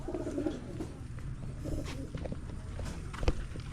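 Young birds feeding on the ground at a farmyard make soft cooing calls, along with light scratching and pecking, with one sharper knock near the end.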